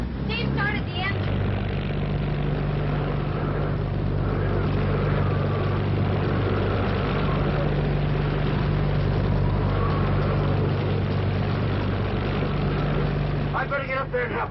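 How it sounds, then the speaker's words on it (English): A boat's engine runs steadily after starting, a loud, continuous low drone that lasts the whole stretch, with brief voices at the start and the end. "Steve started the engine."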